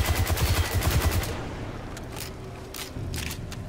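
Automatic gunfire from a weapon in the video game Destiny 2, Witch Queen, played with a Hunter: a fast rhythmic burst of about ten loud shots over a second, then faint scattered pops and distant reports fading out.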